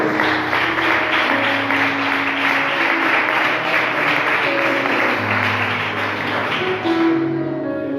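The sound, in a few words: church congregation applause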